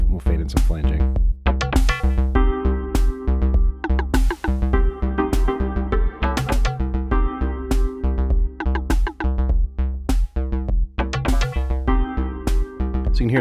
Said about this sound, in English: We'll fade in some flanging.